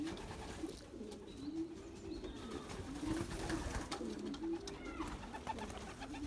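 Belgian racing pigeons coo softly and repeatedly in low, rolling calls, with a faint background hum and occasional small rustles.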